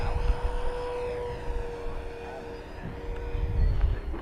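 An FMS 1700mm Corsair V3 RC model warbird with a new propeller on 6s or 8s power makes a fast close pass, its steady electric motor whine with a rising and falling tone over wind buffeting, while people talk over it.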